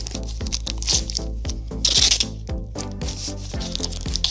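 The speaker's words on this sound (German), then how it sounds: "Und dann beklebe ich die Unterseite meiner Fräse mit Klebeband." Adhesive tape being pulled off a roll and pressed onto the underside of a wood router at a workbench, with a repeated close ripping and rubbing rhythm and no speech.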